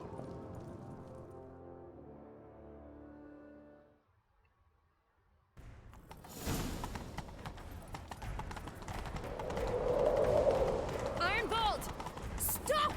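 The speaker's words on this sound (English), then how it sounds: "Grab a horse, we'll chase him down." Horse galloping in The Witcher 3: Wild Hunt, a rapid, rhythmic clip-clop of hooves that starts after a pause following game music and builds louder, with a whoosh and game ambience around it.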